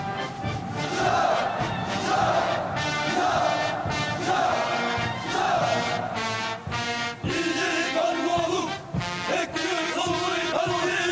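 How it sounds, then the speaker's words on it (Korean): A huge crowd of soldiers and civilians roars in anger at a mass rally in a Pyongyang square, a dense, sustained wall of shouting voices with rhythmic surges and a few sharp peaks, loud and continuous throughout. "복수자들이 토치는 분노와 보복의 함성이 광장의 하늘가에 끝없이 메아리쳤습니다."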